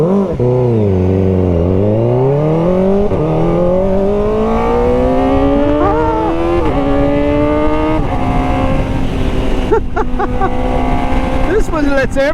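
A motorcycle with its Coffman's exhaust baffle removed rumbles loud and close, its note dipping and then climbing steadily as the engine revs and pulls away through rising gears.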